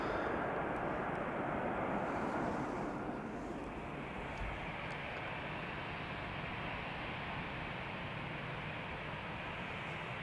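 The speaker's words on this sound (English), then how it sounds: "EasyJet lined up, ready to go to Manchester" EasyJet jet airliner lined up for departure at Amsterdam Schiphol, a steady broad engine rumble and hiss, fairly distant and constant, easing slightly after the first few seconds.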